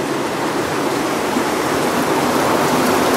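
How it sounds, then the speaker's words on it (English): Steady, loud rushing of water cascading down from a ravine and pouring under a metal grid, a dense, unbroken roar with no voices. "there's a lot of water cascading underneath here because it's coming down from that ravine up there"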